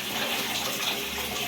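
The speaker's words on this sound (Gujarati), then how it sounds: "હવે પેલું તો નળ બંધ કરી દે" Water runs steadily from a household tap into a sink while a face is washed. The splashing is a continuous, close, hissing stream for a brief moment, with no talking.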